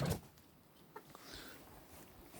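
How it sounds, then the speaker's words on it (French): A hen that wanders indoors gives a few soft, brief clucks after a sharp knock at the start, with low room noise and no talking. "j'ai même une poule qui rentre par l'intérieur"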